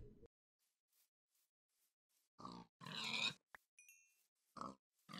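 Two pigs in the Minecraft video game let out short grunting calls in separate bursts amid silence, with a few brief sharp game effect sounds scattered between them.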